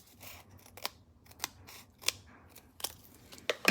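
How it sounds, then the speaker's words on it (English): Scissors snip through foam dimensional adhesive pieces for a handmade card, a series of sharp, close cuts spaced roughly every half second to second with quiet pauses between. "I like to cut my dimensionals in half"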